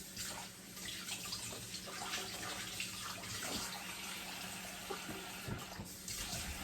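Tap water runs steadily with a broad hiss, continuous throughout, with a few small clinks and splashes in the stream.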